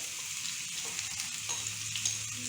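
Mixed poha (flattened rice) goes into a pan for elanchi and is stirred, giving a soft, steady sizzle with light scraping strokes, quiet and without talk.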